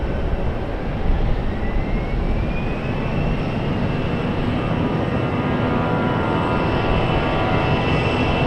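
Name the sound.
PSA airliner at RDU airport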